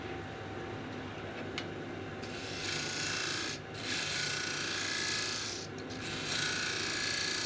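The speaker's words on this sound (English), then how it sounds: "Just again doing a little bit of a scrape along the side there" A woodturning tool scraping along the side of a spinning red ironbark and sheoak piece on a lathe, a steady close rasping scrape that swells and eases in long passes with brief pauses.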